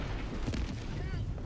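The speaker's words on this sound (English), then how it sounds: "How far does this rocket fire?" Rocket launch from a Helldivers 2 launcher: a broad rumbling blast that fills the whole short moment, dense and loud, mixed with voices talking over the roar.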